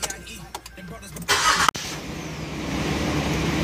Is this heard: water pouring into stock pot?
no